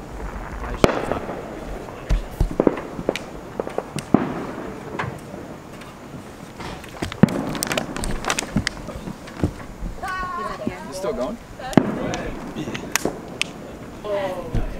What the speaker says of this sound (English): We got fireworks right here.